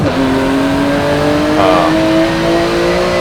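Race car engine in the Forza 7 demo, a loud sustained high-revving whine climbing steadily through the gears with a brief shift, alone without talk.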